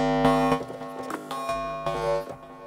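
An Elektron Digitakt II playing a comb-filter instrument patch with the reverb switched off, heard alone as a few plucked, ringing tonal notes that decay quickly, with some delay still audible.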